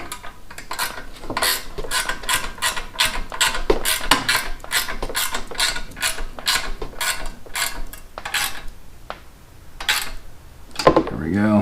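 A wrench ratchets in quick repeated clicking bursts while bolts are tightened on a snow blower carburetor during a rebuild, with light metallic handling noises close by.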